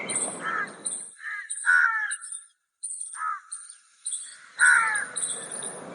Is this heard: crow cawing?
yes